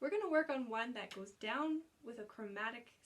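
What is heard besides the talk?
None of the usual background noises is heard.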